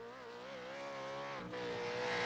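A racing car on a track circuit holds a steady, buzzing engine note that climbs slightly over bumps. There is a brief dip and recovery midway, and the engine sounds close and continuous.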